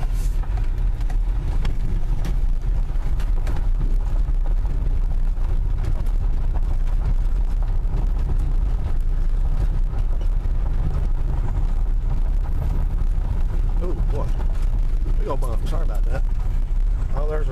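A 2001 Buick LeSabre with its service engine light on accelerates hard, a loud, steady low engine roar with wind and road rumble running throughout, while people talk over it.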